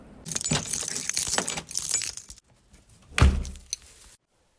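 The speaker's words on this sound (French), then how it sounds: "Vous avez entendu la porte, donc on est rentré" Keys jangle at a front door, bright metallic rattling for a couple of seconds, then a single heavy thud as the door shuts, followed by silence.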